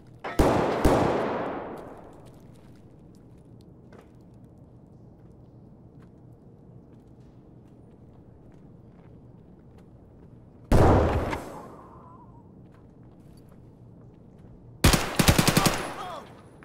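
Automatic rifle fire in the video game Escape from Tarkov comes in three loud, sharp bursts, the first and last as rapid multi-shot volleys with ringing tails, separated by long quiet stretches of low ambience.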